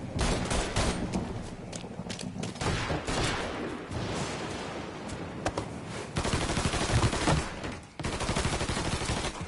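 Dense gunfire erupts in a Mafia III shootout, with rapid overlapping bursts and automatic volleys keeping a loud, continuous clatter throughout.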